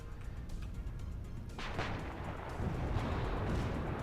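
Tank cannon fire during a WARNO real-time strategy battle between an M1 Abrams and Soviet T-80 and T-62 tanks, heard as a dense rumble of booming shots and blasts that grows louder midway, with a commentator talking throughout.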